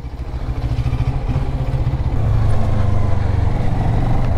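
A CF Moto 650NK motorcycle pulls away, its engine note rising steadily from a low idle-like pulse to a louder, sustained drone, close by and without talk.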